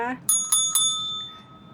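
A notification bell sound effect rings three quick bright dings, each with a shimmering tail that fades slowly. A brief voice is heard just before the first ding.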